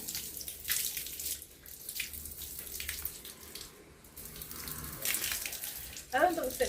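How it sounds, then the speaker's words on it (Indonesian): Tap water runs and splashes while the nose is rinsed during ablution (wudhu). The rush is steady and close, with bursts of splashing, some gurgling near the end and faint sniffing sounds. "kita akan membasuh hidung dengan bersih. Caranya menghirup air"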